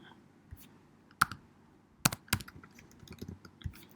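Keys tapped on a computer keyboard while filling in a web form, a few scattered sharp clicks and short bursts of typing, close and fairly quiet with no talk.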